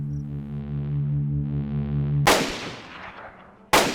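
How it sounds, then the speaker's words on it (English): Two sudden loud gunshot blasts in the video game DayZ, each with a long decaying echo, breaking in over a steady low engine hum. "Who the hell's shooting at me?"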